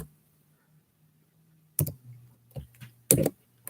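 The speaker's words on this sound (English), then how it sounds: "I can't inbox it, but I will type it to you right quick." A few quick keyboard keystrokes clicking close by as a message is typed, short bursts separated by quiet pauses over a faint low hum.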